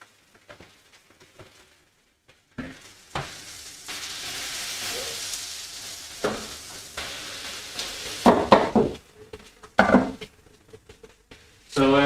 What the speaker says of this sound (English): how is the sound doing with the frying of the pork belly?